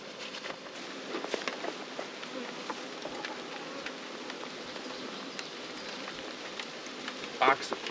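Light rain patters on surfaces around open beehives during treatment, a soft continuous hiss with small scattered ticks, bees buzzing faintly and a brief louder rustle near the end.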